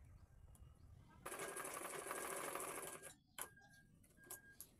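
Sewing machine running steadily for about two seconds while stitching a red fabric insert onto a cushion cover, a dense mechanical whir that stops abruptly and is followed by a few soft clicks and fabric handling.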